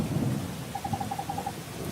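Rumbling thunder and steady rain on a stormy night at a castle in the video game Wargroove, a low continuous roar with a brief run of faint high beeps partway through.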